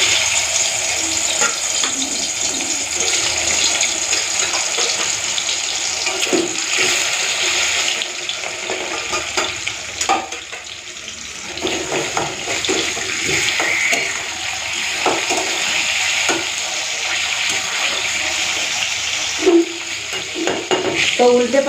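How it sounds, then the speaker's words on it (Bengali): Snakehead fish rubbed with salt and turmeric fry in hot mustard oil in a wok: a loud, continuous crackling sizzle with intermittent knocks and scrapes of a spatula, without any speech. "তো প্রথমে এই নুন হলুদ মাখানো শোল মাছগুলোকে একে একে দিয়ে ভেজে নিই।"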